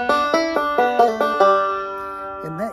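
A 5-string banjo plays a spicy variation of the G lick, five or six crisp plucked notes in quick succession, then a held ringing chord and a short bending slide at the end.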